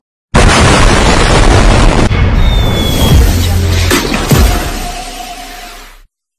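An aapti bomb firecracker goes off in one loud, close blast that sets off a long rumbling, crackling decay lasting several seconds, with no voices over it.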